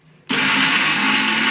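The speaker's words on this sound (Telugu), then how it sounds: "ఇప్పుడు జార్ పెట్టుకొని మిక్సీ వేసుకోవాలి." An electric kitchen mixer grinder starts up sharply and runs at full speed, grinding coconut powder and coriander leaves in its jar with a loud, steady whirring roar that continues without pause.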